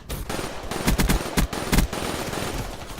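Rapid gunfire from the Black Ops 3 video game, played on an Xbox One with a Scuf controller: several quick bursts of automatic shots crack out in clusters over a steady background of game noise.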